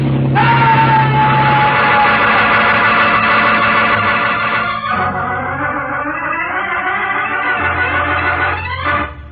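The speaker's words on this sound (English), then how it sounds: "As Devlin screams with fear, Mark and Scotty exert every last ounce of strength in a desperate attempt to reach safety." A man in an old radio adventure drama lets out a long, loud, sustained scream of fear, layered over dramatic music and churning noise during a canoe struggle.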